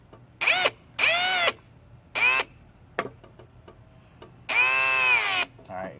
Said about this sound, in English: I want to get at least drive one screw in there just to see how she drives